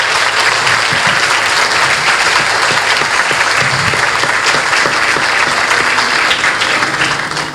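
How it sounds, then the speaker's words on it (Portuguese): Steady, loud applause from an event audience at a Corinthians history gathering, continuous clapping filling the whole stretch with no talk over it. "Pediria uma salva de palmas para ela."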